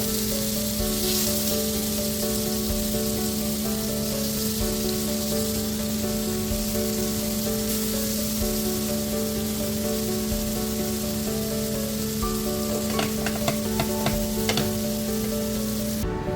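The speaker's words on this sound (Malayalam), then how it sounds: "നമുക്കിതൊന്ന് പെട്ടെന്ന് തന്നെ ഫ്രൈ ചെയ്തെടുക്കാം" Prawns frying in oil in a pan, a loud, continuous crackling sizzle throughout, with a steady low hum underneath and a few brief clatters near the end.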